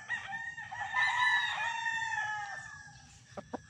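A Boston Roundhead gamefowl rooster crowing once, a long drawn-out cock-a-doodle-doo heard fairly close, followed by a few short clucks and taps near the end.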